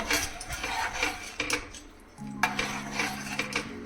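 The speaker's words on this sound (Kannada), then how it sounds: "ಇವಾಗ ಈ ಮೊಸರನ್ನ ಚೆನ್ನಾಗಿ ಮಿಕ್ಸ್ ಮಾಡಬೇಕು" Curd stirred with spices and coriander leaves in a pot, a few light metallic clinks and scrapes of a spoon against the vessel, close and quiet, with a faint hum partway through.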